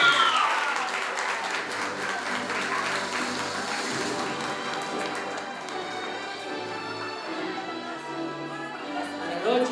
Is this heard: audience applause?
yes